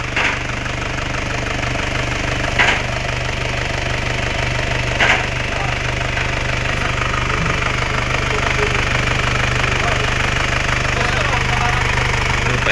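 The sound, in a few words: Isuzu Crosswind Sportivo 2006 engine idling after start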